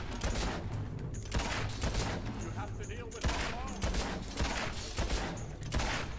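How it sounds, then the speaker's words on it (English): Enemy gunfire in the video game Fable 2 rattles in dense, repeated bursts under constant game music and effects, loud and continuous across the whole stretch. "that guy's shooting at us"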